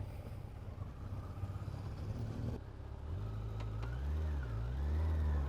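Cars drive along a road on the Riviera in Guadeloupe during a women's cycling race, with a steady engine rumble, then a closer vehicle's motor rises and falls in pitch as it passes.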